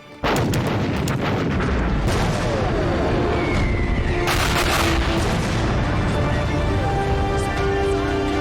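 Artillery bombardment in a war drama about a river-crossing battle: loud, dense booms and gunfire rolling continuously, heavy impacts layered over a constant roar, with a brief high whine midway.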